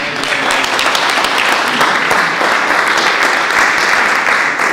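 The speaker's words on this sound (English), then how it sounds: "I always appreciate when people clap before you come up" A conference audience applauds as a speaker walks on stage, with dense, loud, sustained clapping that holds steady for several seconds.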